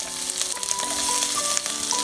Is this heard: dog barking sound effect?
no